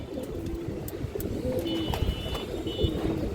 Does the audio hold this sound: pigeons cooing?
yes